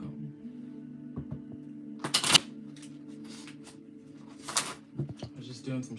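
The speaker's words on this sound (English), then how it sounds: "I was just doing some shuffling." Tarot cards shuffled by hand at close range, two short bursts of riffling flutter over a steady low hum, with quiet rustling between them.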